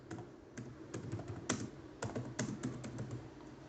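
Rapid, uneven clicking of a computer keyboard as text is typed, close and fairly quiet, with irregular keystroke bursts and short pauses and no speech.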